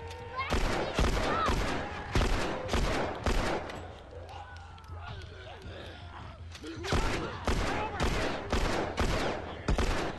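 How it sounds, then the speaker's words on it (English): Rapid bursts of gunfire in The Last of Us, loud and close, in dense volleys with a quieter stretch in the middle before the shooting resumes. "Wow, I missed all those shots."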